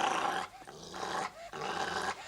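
A small pet dog growls in low, rumbling bursts, three close snarls separated by short pauses, near and fairly loud with no talking.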